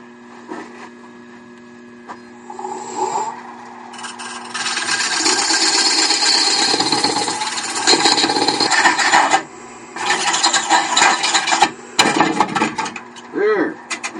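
A coring tool cuts rings from a wooden blank on a lathe, heating up from friction; a steady rasping, scraping grind builds from about four seconds, stays loud and continuous, then breaks into shorter bursts near the end.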